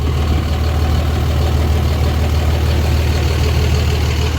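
Hotshot pickup truck that hauls around 20,000 pounds, its engine idling at a steady, loud, even drone with no change in pace and no voices.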